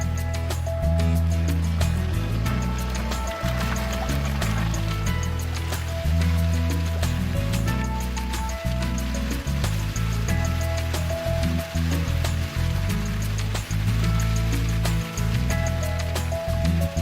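Stream water in Bolivia, diverted into artificial waterfalls for gold panning, makes a steady, broad rushing and splashing sound that runs unbroken throughout, with a low tonal background underneath.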